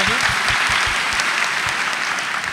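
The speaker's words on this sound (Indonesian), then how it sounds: "Kita tepuk tangan lagi." An audience at an Indonesian talk on local graduates and entrepreneurship applauds a speaker, with steady dense clapping filling the room throughout at a moderate level, and no one speaking over it.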